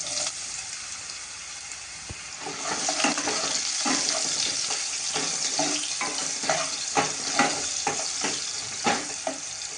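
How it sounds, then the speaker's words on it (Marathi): Mustard seeds crackling and popping in hot oil while tempering for a ridge gourd amti, with a constant bright sizzle and scattered sharp pops up close, and no voices. "मोहरी छान तडतडते, आता जिरं घालूया।"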